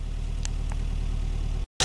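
Engine idling steadily at about 1,100 rpm after the choke is adjusted down, a constant low rumble with a couple of faint brief clicks, ending in a short cutout and a burst of noise.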